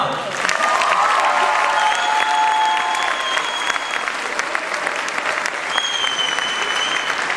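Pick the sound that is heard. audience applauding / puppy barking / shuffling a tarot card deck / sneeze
audience applauding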